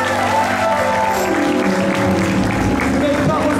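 A church congregation applauds in steady, dense clapping that fills the space throughout, with voices and shouts mixed into the crowd noise.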